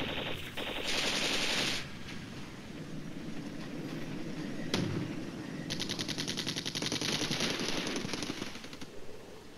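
Tank fire in the wargame Flashpoint Campaigns Red Storm sounds as a steady stream of rapid gunfire bursts and rattling shots with a heavy thump midway, dense and continuous for nearly ten seconds.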